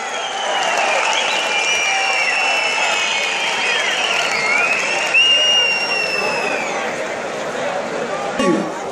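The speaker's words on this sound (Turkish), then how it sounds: "Cumhur'u alkışlıyoruz, Cumhur'u." Sustained applause and crowd noise fill the stands at a traditional Turkish oil wrestling event, steady and loud throughout, with a voice speaking over a public address system above the clapping.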